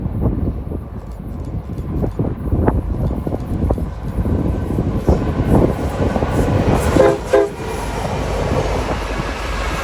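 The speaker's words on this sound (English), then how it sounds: "Before it passes, an eastbound Union Pacific stack train goes through first." Eastbound Union Pacific double-stack freight train passing near Tehachapi, a steady loud rumble of rolling wagons with rhythmic wheel clatter and squeal close by.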